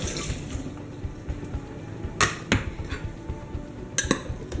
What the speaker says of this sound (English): I'm going to rinse off my cutting board.